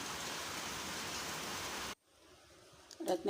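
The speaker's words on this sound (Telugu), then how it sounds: "పెద్ద వర్షం వచ్చేసింది" Heavy rain pours down in a steady, dense hiss that fills the first two seconds, then cuts off abruptly, leaving quieter room sound with a few small knocks.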